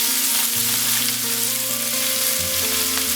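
About 500 grams of ground beef frying and browning in a pan, a loud, steady sizzle with faint stirring scrapes and a low hum underneath, no talk.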